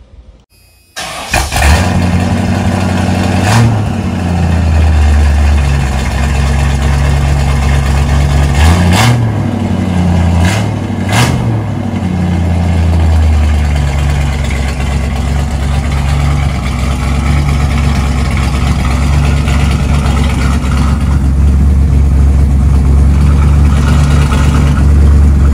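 A dually pickup truck engine starts and idles loudly through a rough exhaust, with a few sharp revs rising and falling before settling back to a heavy rumble.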